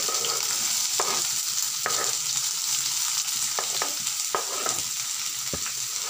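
Capsicum, beans and carrot stir-fried in a little oil in a pan: a steady, close hiss of sizzling runs throughout, broken by sharp scraping clicks of a spatula stirring at irregular intervals.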